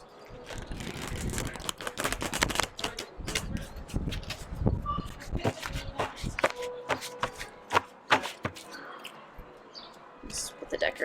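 A tarot card deck is shuffled by hand at close range, giving a run of quick, uneven papery riffles and soft slaps for several seconds while a voice speaks intermittently over it.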